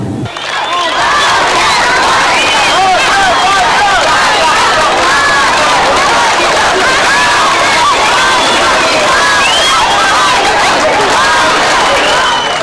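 Hundreds of residents of Salyan line the route of the Baku 2015 European Games torch relay, their dense, steady cheering, shouting and clapping loud and unbroken throughout.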